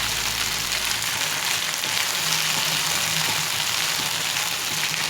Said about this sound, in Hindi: इसी तरह से सारे पीसेस को मैं फ्राई कर दूँगी